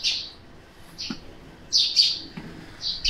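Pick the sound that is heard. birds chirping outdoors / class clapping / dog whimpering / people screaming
birds chirping outdoors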